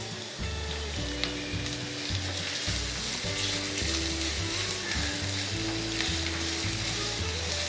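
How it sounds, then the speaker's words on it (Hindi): Onions hiss in hot oil for a potato samosa filling, a dense, even sizzle held throughout at close range, with a faint tonal hum beneath and no speech. "ऑयल गर्म हो चुका है, अब इसके अंदर हम डालेंगे ये अपनी प्याज।"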